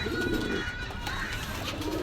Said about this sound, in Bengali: যারা চিনা কবুতর খুঁজতেছেন একটু ভাজার কবুতর কিন্তু খুব সুন্দর কবুতর